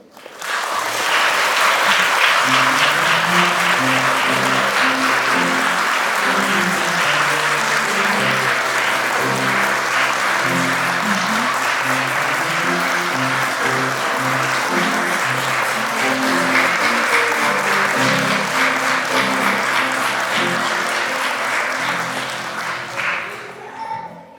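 Audience at a kindergarten graduation party bursts into loud, sustained applause, dense clapping from many hands that holds steady for over twenty seconds before tapering off near the end.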